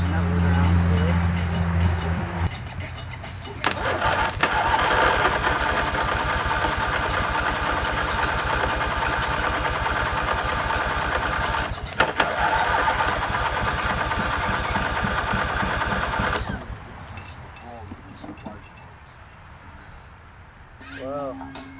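A homemade redneck ride-on lawn mower engine cold-starting, cranking briefly before catching and running at a loud, steady throbbing idle, then cutting off and leaving quieter background noise.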